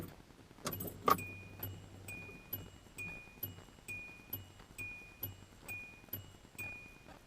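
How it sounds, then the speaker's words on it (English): A car's ignition chime pings in a steady, evenly spaced series of bright tones after a brief jangle of keys, with doors locked and ignition switched on; close and clear, no talking. "you get to hear the awesome ignition chime in this car."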